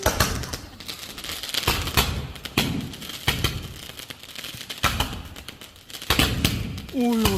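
A string of Diwali firecrackers pops and bangs loudly in quick, uneven bursts, some stronger blasts standing out, with people exclaiming over the noise.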